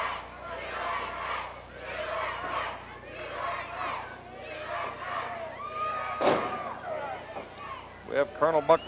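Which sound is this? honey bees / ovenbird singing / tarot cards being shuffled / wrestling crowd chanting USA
wrestling crowd chanting USA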